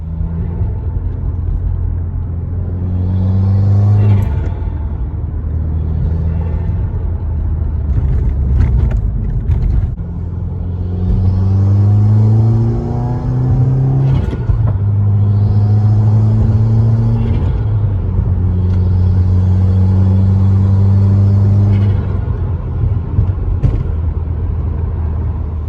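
A 2017 Subaru WRX engine with an intake and tune hums steadily while driving, with rising tones as it accelerates through gears, a strong low rumble throughout, close and loud.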